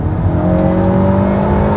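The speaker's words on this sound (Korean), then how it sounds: "액티브 사운드 컨트롤, 스포츠 모드에서 차의 엔진 사운드를 듣기 좋게 해주는 겁니다" Steady, close engine drone from a Honda Accord in sport mode, its note enhanced through cabin speakers by active sound control, holding a smooth even hum with no talking.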